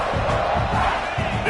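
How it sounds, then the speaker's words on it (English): A stadium crowd at a football game roars loudly and continuously, a dense wall of cheering and yelling that holds steady throughout the short moment. "This crowd trying to make life miserable for this offense."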